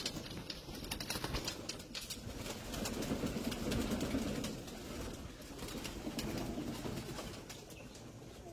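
Pigeons at a pigeon farm with eggs and chicks coo steadily in low, overlapping rolling phrases, swelling louder in places, with faint rustling and occasional wing sounds close by.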